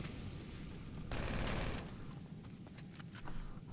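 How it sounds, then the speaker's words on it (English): Gunfire in GTA V: a dense, rattling burst of rapid shots swells for about half a second, then scattered cracks follow over a constant rumbling background. No voices. "And why are you shooting me?"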